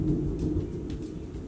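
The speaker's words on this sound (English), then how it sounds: "But did you hear it? It was thunder." Rolling thunder gives a low, continuous rumble that swells slightly and then holds steady for a moment, heard alone with no voices.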